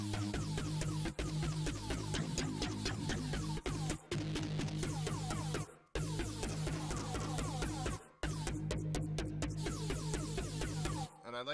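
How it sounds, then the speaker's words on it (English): A synthesized driller bass plays in a dense, loud repeating pattern with a heavy low end and gritty, buzzing upper texture, pausing briefly a few times between phrases. "We've got a driller bass."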